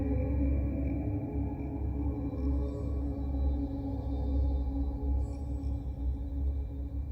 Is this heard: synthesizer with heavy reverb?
yes